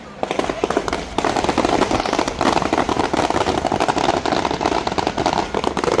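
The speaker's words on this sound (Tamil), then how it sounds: "பூசை முடிஞ்ச அப்புறம் இந்த வான வடிக்கை நடந்து கொண்டு இருக்கு" Outdoor fireworks follow a Catholic church service, a dense run of rapid crackling bursts and pops that keeps up steadily at moderate distance throughout.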